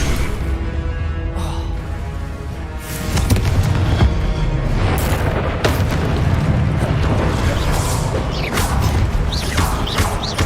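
Loud blasting spell explosions in the video game Hogwarts Legacy, a dense continuous barrage of booms and crashing impacts with mechanical clatter, several sharp blasts standing out over a sustained rumble, with no talking.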